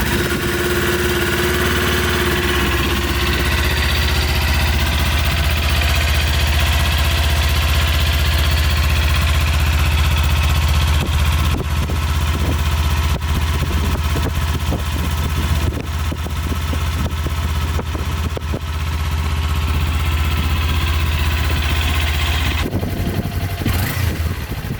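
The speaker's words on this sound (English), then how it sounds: "Here's a quick clip of the exhaust and how the bike sounds stock." A stock-exhaust 2021 Kawasaki Ninja 400 motorcycle idles steadily and close by, a low, even engine drone with a few brief revs or bumps toward the end and no talking.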